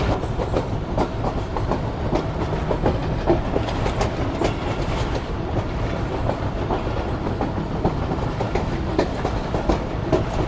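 A passenger train runs through heavy fog in cold winter weather, its wheels giving a steady, continuous clickety-clack and rumble heard from on board, loud and close, with no talking.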